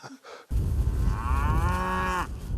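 A beef cow on a farm lets out one long, loud, close moo that rises and holds for about two seconds over faint outdoor background noise.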